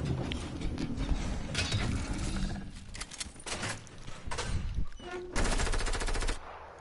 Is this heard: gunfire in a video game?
yes